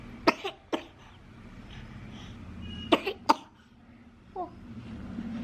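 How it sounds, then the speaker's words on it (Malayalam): A nine-month-old baby coughs in two pairs of short, sharp coughs a few seconds apart, close by, followed by a faint small vocal sound. "ഭയങ്കര ചുമ."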